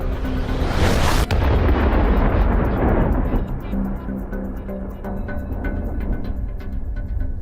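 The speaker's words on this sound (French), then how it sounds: "L'explosion envoie un jet de cuivre en fusion qui découpe l'acier." Explosion of a shaped cutting charge firing a jet of molten copper through a steel column, a loud sudden blast followed by a long roaring rumble that slowly fades.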